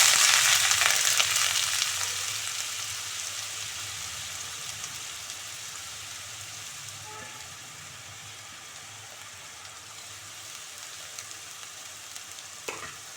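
Mustard seeds, onion and chillies fry in hot oil for a moong dal tadka, a dense continuous sizzle loudest at first and settling into a steady hiss with faint crackles.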